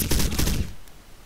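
Short burst of rapid gunfire fired from the hip in the shooter game Crysis, several quick loud shots in tight succession, then a fading tail, with no talk.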